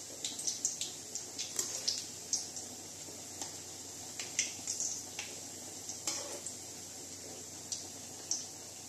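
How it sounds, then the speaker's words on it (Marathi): Potato peel fritters fry in oil on a low flame with a soft, steady bubbling hiss, punctuated by scattered light pops and faint stirring clinks, quiet and close. "मंद आचेवर तळून घेऊया."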